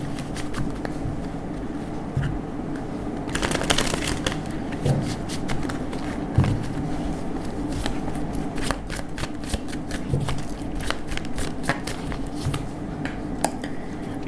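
Tarot cards are shuffled by hand in a continuous riffle and slide of card stock, close and steady, with occasional light taps and flicks and no talking over it.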